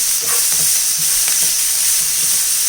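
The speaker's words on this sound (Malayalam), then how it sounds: "ഇളക്കി കൊടുക്കാം. 2 മിനിറ്റ് ഒന്ന് വാട്ടിയെടുത്താൽ മതി." Vegetables sautéing in a pan for an egg and bread snack, with a steady close sizzle and soft scraping from stirring throughout.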